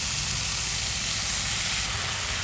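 Coriander leaves frying in a pan for a bean-and-shrimp bhorta, giving a steady, dense sizzle and hiss that carries on unbroken with no talking.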